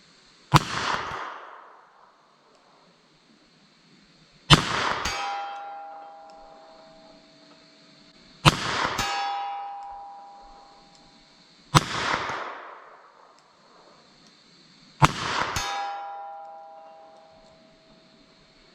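.32 S&W Long semi-jacketed hollow point rounds fired at a steel target, five sharp, loud gunshots spaced a few seconds apart, each followed by a lingering metallic ring and decaying echo.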